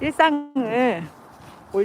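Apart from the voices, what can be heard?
No everyday noise stands out behind the speech.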